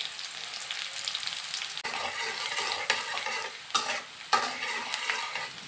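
Minced garlic and chopped dried chili hit hot oil in a pan, giving a steady bright crackling sizzle, with a few sharp utensil scrapes and stirs close by, no voices.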